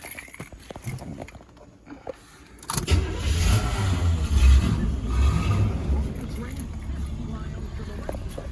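A 1976 GMC Sierra Classic Suburban 1500 engine cranks and catches, then settles into a deep, steady idle rumble close by, with a voice speaking over it.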